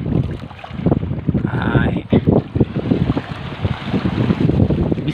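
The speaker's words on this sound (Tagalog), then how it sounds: "Lumakas yung hangin, lumaki yung alon." Strong wind and big waves at sea on a small fishing boat, a loud, rough wind rumble against the microphone with water sloshing, while people talk over it.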